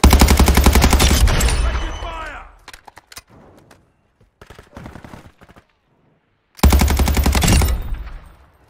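Rapid automatic gunfire bursts loud and close in Call of Duty Modern Warfare 2 multiplayer on PC, a long burst followed by scattered fainter shots and echoes, then another sustained burst.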